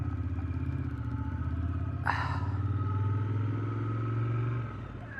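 A motorcycle engine idles with a steady low rumble, then a brief metallic clunk as it is shifted into gear, the engine note holding near and loud before easing off at the end.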